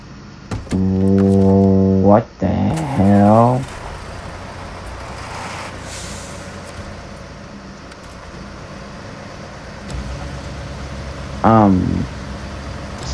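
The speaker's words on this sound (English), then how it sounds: "Fire this truck up." A tractor-trailer truck at an accident cleanup site fires up with a loud, droning, horn-like roar that rises and falls twice. It then settles into a low rumbling idle and surges again briefly near the end, with voices in the background.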